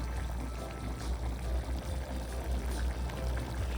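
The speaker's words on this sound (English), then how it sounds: "I drain the water, I don't use the water from the beans." Water from canned beans drains steadily in a continuous close splashing pour that holds even throughout, with no talking.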